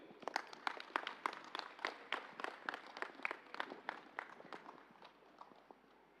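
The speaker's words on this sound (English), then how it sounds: "Let us give a big clap to Ganeshji family" Scattered applause from a small audience at a musical meditation session, sparse individual claps thinning out toward the end, fairly faint and with no talking.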